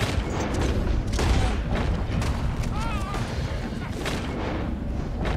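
Rapid, repeated gunfire and booming shots crackle over a busy Red Dead Redemption 2 game soundscape, with a voice speaking underneath the shooting.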